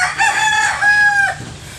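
A fighting rooster, one of many gamecocks kept in the yard, crows close and loud, its long call rising and then holding with a strained, drawn-out tail.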